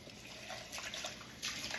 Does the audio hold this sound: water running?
yes